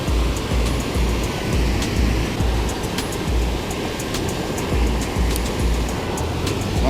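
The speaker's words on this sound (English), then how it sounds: "It's like some real tall rushing water." A fast, dangerously high river rushing past, a dense loud roar of churning water with rhythmic surging pulses, heard close and alone without speech.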